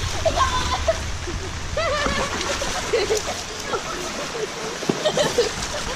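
A swollen creek after a heavy downpour rushes and splashes steadily nearby, a dense churning wash of water that continues throughout with small splashy variations.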